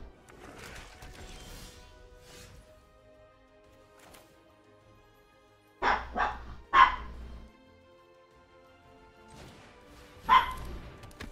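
A dog barks in a close, loud burst of three quick barks, falls quiet, then gives one more sharp bark a few seconds later over a low, murmuring background.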